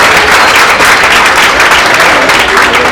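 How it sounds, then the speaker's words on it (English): A crowd gives a loud, close, dense round of applause at a West Indian Day culture celebration, continuous clapping with no pauses across the whole span. "Let's give them all a round of applause."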